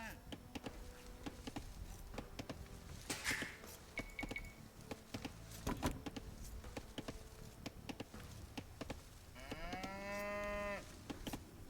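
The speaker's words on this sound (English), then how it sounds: "You got the cows mooing." Cattle moo repeatedly amid a busy Age of Empires II soundscape of clicks and effects, with a long drawn-out moo near the end.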